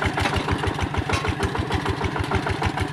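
A rice-farming machine's engine runs loud and close in a dry paddy field, a steady chugging motor with fast, even low thumps throughout and no speech.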